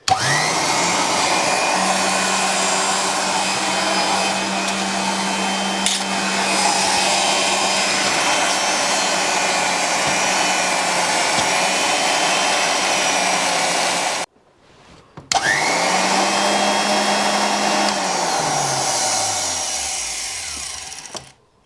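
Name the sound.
Wolf tool post grinder motor powering up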